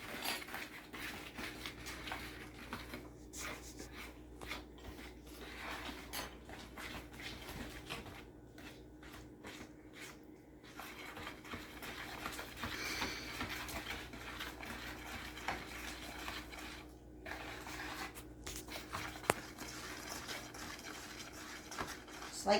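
Peanut butter chocolate granola bar mixture being stirred in a bowl, a steady scraping and clinking of a utensil against the dish, close and moderately quiet over a faint room hum, with no one talking.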